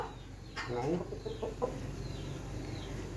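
Badsha Miya, a pet rooster, gives a handful of soft, short clucks close by in a quiet room before falling still.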